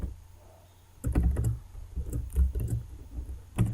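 Code being typed on a computer keyboard: after a brief quiet pause, a quick run of close, crisp key clicks and taps, followed by a few more keystrokes.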